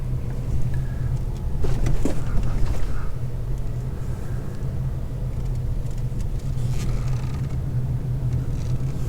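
A car driving through the former plantation town of Waialua on Oahu, Hawaii: a steady, loud low road rumble and engine drone from inside the car throughout, with a slight swell early on.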